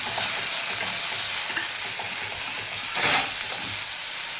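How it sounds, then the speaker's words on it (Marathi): Spice masala with turmeric and asafoetida roasting in oil for Kolhapuri-style soybean bhaji, a steady close frying sizzle with occasional soft stirring scrapes and a brief louder burst near the end. "तुम्ही बघू शकताय मसाला छान भाजलेला आहे"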